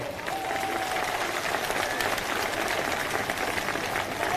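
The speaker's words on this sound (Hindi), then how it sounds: "एक बार जोरदार तालियां हमारे गायकों के लिए" A large crowd at a Bahujan Samaj Party rally in Rewa, Madhya Pradesh, gives the singers loud, sustained applause: dense, continuous clapping that holds steady throughout without a break.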